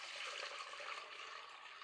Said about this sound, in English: just pour the juice through the sieve